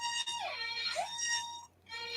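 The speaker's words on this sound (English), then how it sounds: "That is my alarm" A phone alarm going off as a medication reminder, a faint repeating electronic tone with rising and falling melodic notes and a brief pause near the end, heard alone in a quiet room.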